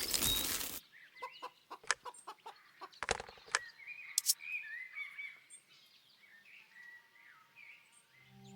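A chicken clucking in a puzzle adventure video game, several short clucks and squawks among chirping birds and light clicking effects, fairly faint and close.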